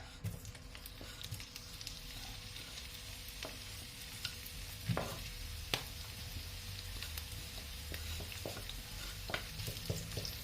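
Onions sizzle quietly in a pan with beef, a soft continuous frying hiss broken by occasional stirring scrapes and small pops.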